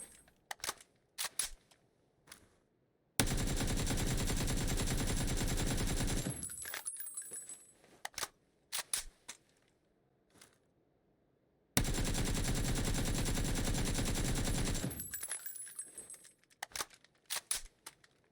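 Two long sustained bursts of automatic gunfire from the PUBG video game, each lasting about three seconds, separated by scattered single shots and clicks, loud and close with no talking.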